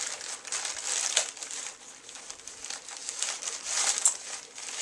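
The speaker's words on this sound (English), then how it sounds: "It's in one of those plastic envelopes that I just don't like." A plastic mailing envelope crinkles and rustles softly as it is handled up close during an unboxing, a continuous crisp crackle with slight swells and no talking.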